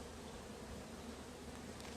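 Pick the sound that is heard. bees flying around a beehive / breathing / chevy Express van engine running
bees flying around a beehive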